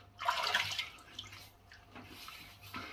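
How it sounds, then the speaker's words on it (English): Water splashes loudly for a moment as a face is wetted before a wet shave, then trails off into quieter drips and small splashes. "So we're going to wet the face"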